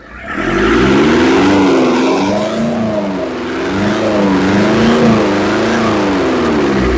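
A Nissan Urvan diesel van engine, one prone to stalling on its own, runs loud and steady at close range, its revs rising and falling in slow, repeated waves with no talk over it.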